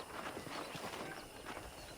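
Horse hooves clip-clopping at a steady walking rhythm while riding in the Western video game Red Dead Redemption, soft and fairly distant under a constant bed of ambient game noise.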